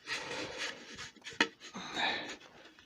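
A small round scraper tears out punky wood inside a bowl turning on a lathe, giving rough, uneven scraping bursts close by with a sharp knock midway.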